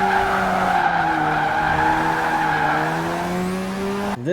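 A bright yellow final-generation Mazda RX-7 Spirit R with a 276-horsepower rotary engine skids, giving a loud, continuous tire squeal over a steady engine drone for about four seconds before cutting off abruptly.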